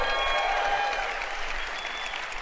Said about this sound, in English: Let's give Howard a round of applause